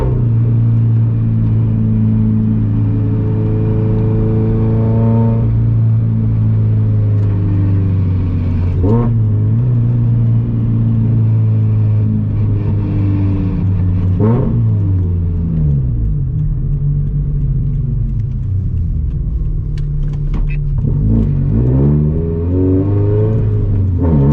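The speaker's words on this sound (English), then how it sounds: "Every time I shift, it's popping, it's igniting." A turbocharged Subaru BRZ/FRS with roughly 350 horsepower revs hard under aggressive driving, the close, loud engine note rising and falling through gear changes with sharp exhaust pops as the throttle lifts.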